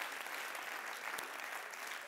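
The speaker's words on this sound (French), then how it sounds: "applaudissez-vous" Steady, dense audience applause from a French-speaking crowd at a show taping, a continuous wash of many hands clapping at an even level throughout.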